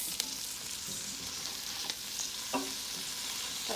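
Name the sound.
mixing eddo leaf bhaji frying in a pot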